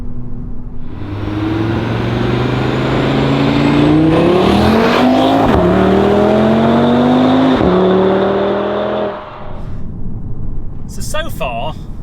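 An Audi TT RS launches hard from a standstill, its engine note climbing loud and close through a series of gear changes before easing off near the end.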